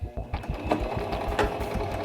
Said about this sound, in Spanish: Remata al inicio y cose la línea completa.